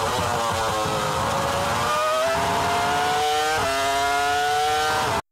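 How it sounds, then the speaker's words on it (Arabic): A Formula 1 V10 race car engine screams at high RPM, a continuous, loud, piercing whine that rises through gear changes with brief dips between shifts, sustained throughout before cutting off abruptly. "الصوت اللي بيخليك تحس ان العربيه بتغني كده وهي بتعدي الار بي ام العالي"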